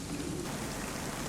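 Rain falling at night in the DayZ survival game, a soft, steady hiss of drops with no breaks, fairly quiet and with no voices over it.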